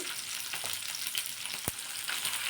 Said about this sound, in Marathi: मिरची भाजून घ्यायची आहे झाकण ठेवून फुल गॅसवर आपल्याला ही मिरची दोन मिनटं भाजून घ्यायची